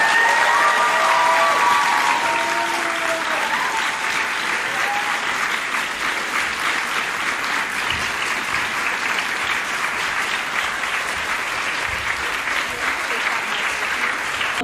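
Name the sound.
audience applause after a speech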